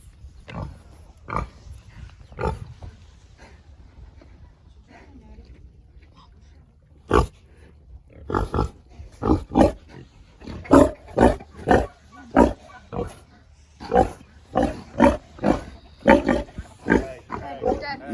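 A Duroc boar in a farm pig pen snorts and grunts in repeated rough bursts, sparse at first and then coming quickly in a choppy rhythm, close to the listener with some speech mixed in.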